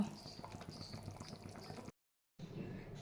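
Fish curry with potato and pointed gourd boiling in a pot, a soft, steady bubbling simmer heard close but faint, briefly cut to silence before resuming.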